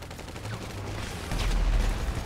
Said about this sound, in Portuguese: Atira, geral!